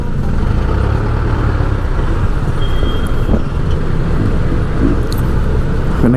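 Congested street traffic near LRT Carriedo in Manila, with a dense, constant rumble of idling and crawling cars, jeepneys and trucks close by, plus a brief horn-like tone and scattered clanks through the continuous roar.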